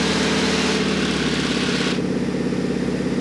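An aerobatic airplane engine at takeoff power gives a loud, steady, droning roar with a strong harmonic hum that holds without letup.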